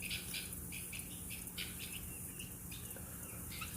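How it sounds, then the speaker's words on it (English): Repeated harsh squawks and chirps from caged birds in short bursts over a steady noisy background, with no talking. "Y'all hear the other birds? They over there having a fit."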